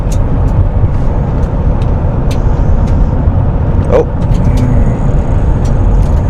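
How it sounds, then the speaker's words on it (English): A Chevrolet TrailBlazer with a newly replaced wheel bearing cruises at speed, giving a steady, loud broadband road and engine rumble with a few faint clicks and rattles over it. "I just kind of want to get her up to speed out here and make sure she rides better"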